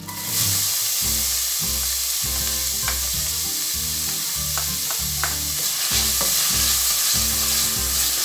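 Chopped onion sizzles loudly in a hot frying pan for picante de carne, with a steady hiss and repeated scraping stirs of a utensil against the pan.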